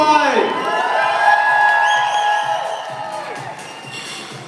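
A crowd at a reception cheers with bright whoops and raised voices, then fades to scattered clapping and chatter.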